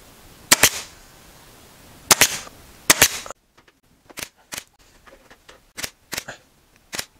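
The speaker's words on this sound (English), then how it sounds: "We're going to start by stapling, and I've got a little ridge here so I can push my gun up into the ridge" Staple gun driving staples through fabric into a couch frame during reupholstering: three loud, sharp snaps at first, then a run of quieter clicks and clacks spaced about half a second apart.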